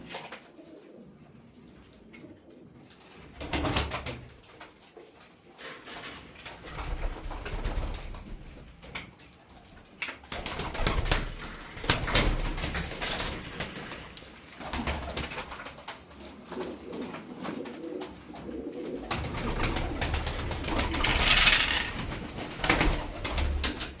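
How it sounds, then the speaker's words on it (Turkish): Flight pigeons coo repeatedly in a loft, soft throaty calls rising and falling in irregular bursts, close by, with faint rustling and occasional wing movement and no talking. "Alın size filo kuşları."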